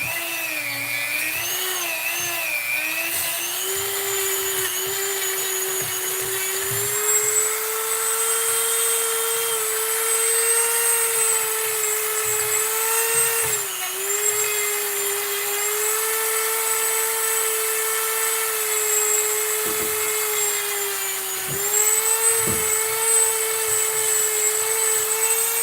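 A power sanding tool works on a large wooden flower vase, giving a continuous high-pitched rotary whine whose pitch wavers and dips as it bears down, with occasional knocks and rumbles underneath.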